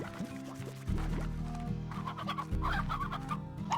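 Chickens in the Slime Rancher video game cluck in a steady, close cluster of clucks and short squawks, loud enough to stand out on its own with no talk.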